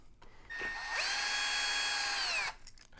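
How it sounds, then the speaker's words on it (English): A power drill works on the legs of Wolfy, a robot dog, in one loud, close burst of about two seconds, whining steadily and then winding down, with no talking. "I need drill bit number 2 actually now"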